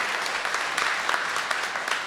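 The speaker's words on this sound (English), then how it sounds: "So give him a round of applause for all that he does." Audience applause at a live show, a dense, even patter of clapping hands throughout, moderately quiet.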